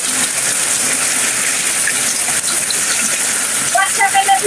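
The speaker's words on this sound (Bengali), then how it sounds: "আমার এখানে অনেক বৃষ্টি হইতেছে বুঝছেন অনেক বৃষ্টি নামছে" Heavy rain falls in a steady, dense hiss that stays loud and unbroken throughout, with a few faint higher tones surfacing near the end.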